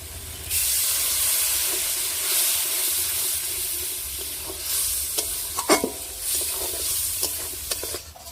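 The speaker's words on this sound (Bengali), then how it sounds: "বন্ধুরা এর মধ্যে একটু অল্প করে জল দিয়ে দেবো" Water poured into a pan of frying fish curry with spices sets off a loud, steady sizzle and steam hiss. Scattered clinks and stirring scrapes sit on top of the hiss, and nobody speaks.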